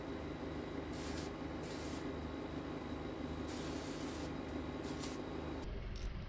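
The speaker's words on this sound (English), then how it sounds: "spray something like this Superzilla" A spray can of Superzilla hisses in steady bursts, close and continuous, for about five seconds before stopping.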